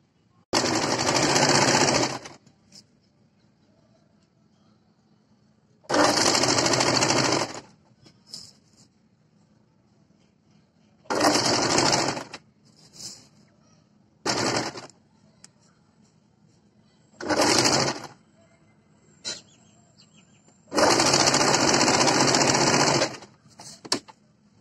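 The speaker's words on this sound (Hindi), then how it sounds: "तो चलिए अब हम इसके ऊपर सिलाई लगाते हैं।" A sewing machine stitches a neck strip onto a simple kurti in six separate loud, steady bursts of rapid whirring, each lasting one to three seconds, with quiet pauses between.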